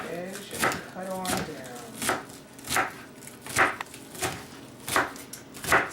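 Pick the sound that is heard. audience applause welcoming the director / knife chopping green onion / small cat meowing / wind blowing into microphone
knife chopping green onion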